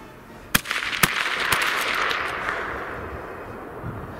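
Two sharp, loud rifle reports from Lee-Enfield SMLE service rifles fired at about 200 yards in a 1914-style musketry demonstration, spaced roughly half a second apart, the second followed by a few fainter cracks and echoes rolling away outdoors.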